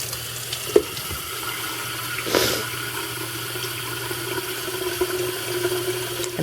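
Water runs steadily from a kitchen tap into a kettle or pot for tea, a continuous close hiss with a couple of brief clunks near the start, and no talk.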